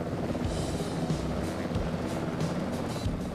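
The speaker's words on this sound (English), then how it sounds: "Hear a big helicopter behind me." An MH60 helicopter flying nearby in a flight simulator game, a continuous low rotor thrum and engine drone holding steady at close range with no break.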